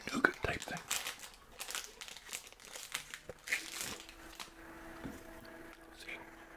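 Close, crisp crinkling and tearing of a nougat chocolate bar wrapper in a series of irregular rustles, with faint whispering in between.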